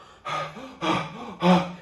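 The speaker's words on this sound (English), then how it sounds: "this is how you're breathing through your mouth like an animal" Loud mouth breathing in three heavy, rasping breaths spaced evenly across a couple of seconds, close and exaggerated, with no talking over them.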